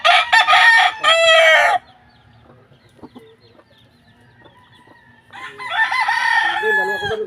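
A farm rooster belts out two loud, long crows, one at the start and another near the end, with quieter clucking and scratching of many chickens in the gap between.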